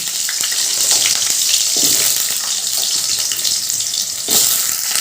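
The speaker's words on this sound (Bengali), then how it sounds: "এবার আমি ওই তেলের মধ্যেই দিয়ে দিচ্ছি টুকরো করে কেটে রাখা আলু" Potato pieces frying in hot oil, a loud continuous sizzle and crackle close up, with occasional faint stirring sounds.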